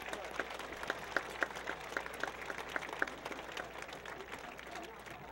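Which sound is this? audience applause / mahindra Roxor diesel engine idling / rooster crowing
audience applause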